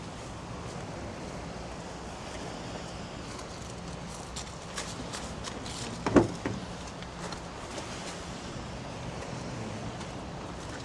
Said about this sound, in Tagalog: Dito ako mga babe sa loob ng tent. Ang hangin sa labas.